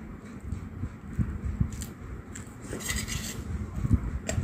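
A nail clipper trims a child's fingernails, giving a few sharp, close clicks spaced a second or more apart over a low, steady room noise.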